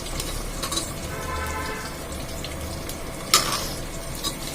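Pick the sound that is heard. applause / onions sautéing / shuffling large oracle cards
onions sautéing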